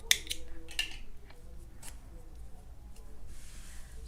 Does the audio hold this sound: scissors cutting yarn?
yes